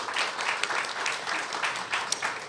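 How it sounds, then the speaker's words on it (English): Audience clapping at a community gathering, a steady patter of many hands at moderate loudness that continues evenly for a few seconds. "Just keep on clapping as I say it"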